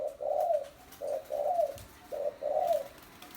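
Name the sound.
spotted dove cooing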